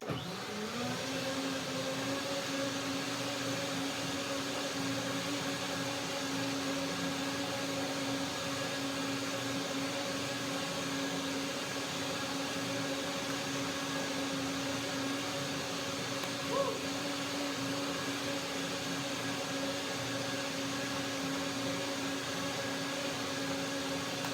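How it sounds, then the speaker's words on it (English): A blender runs steadily and loudly, whirring a cayenne, vinegar and sesame seed dressing in a home kitchen, with a constant motor drone throughout and no voices. "Now one more blender dance"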